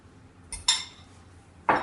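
Guacamole made from avocado goes onto a plate with a few sharp clinks of a utensil against dishware, two quick taps followed by a louder knock after a short pause, close by with no talking.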